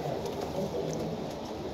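Faint, soft cooing from caged breeding pigeons runs steadily through a short stretch, low and muffled with a light background hiss.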